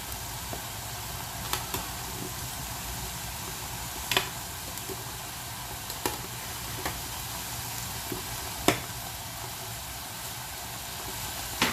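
Powdered spices and sugar stirred together in a hot frying pan while cooking Indian dum aloo, a steady low sizzle and hiss throughout with occasional light scrapes and taps of the spoon against the pan.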